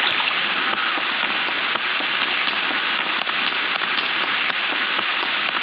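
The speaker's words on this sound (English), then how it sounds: "I need to get back to warmth because I'm getting cold, and it's raining" Steady rain falling in the survival video game Survivalcraft 2, a constant hiss of drops with faint crackles, even and unbroken with no voices.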